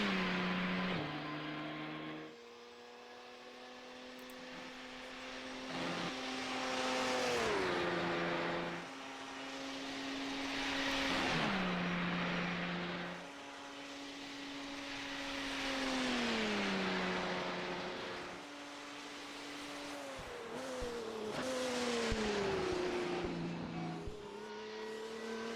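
Race cars lapping Spa in qualifying for an international sports car championship, engines rising and falling in pitch as cars pass one after another, steady loud drone with repeated upshifts and downshifts.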